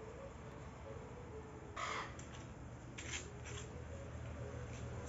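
Parrots calling from an olive tree around dusk, their harsh squawks breaking out in short bursts over a steady bed of outdoor background noise, fairly faint and at middle distance.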